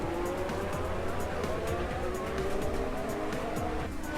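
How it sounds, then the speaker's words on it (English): Simulated Formula 1 car engines from F1 2019 at the Anderson hairpin, a steady loud whine with rising pitch sweeps as one car overtakes another, continuous with no gaps. "Here comes the pass on Magnussen. Again into the Anderson hairpin."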